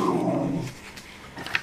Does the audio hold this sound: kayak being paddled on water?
no